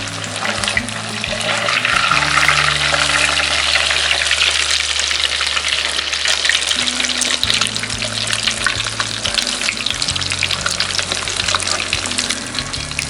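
Egg-battered crappie fillets fry in hot grease on medium heat, a loud, steady crackling sizzle running the whole time over a low background hum, with no talking.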